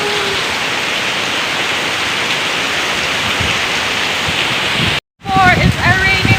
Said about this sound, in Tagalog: As you can see, the rain is so heavy